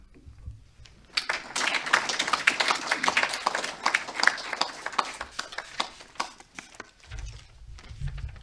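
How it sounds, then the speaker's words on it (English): Audience at a training programme launch applauding the South African ambassador, a dense burst of clapping that starts abruptly, holds strongly for several seconds, then thins out before a low murmur returns. "let's give a warm round of applause, a South African one, to His Excellency, our Ambassador"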